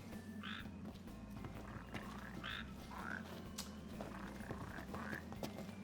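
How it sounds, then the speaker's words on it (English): Frogs croak repeatedly in the Final Fantasy XV video game, short rising calls recurring every second or so over a steady low ambient hum, moderately loud and fairly close. "Yellow frogs."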